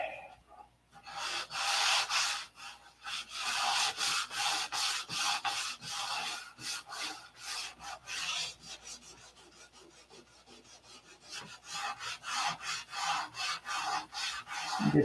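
Wet sanding by hand with 1500 grit sandpaper and Windex on an aircraft flap or elevator surface, heard as close rhythmic rasping strokes that ease off in the middle and then pick up again, with no talk.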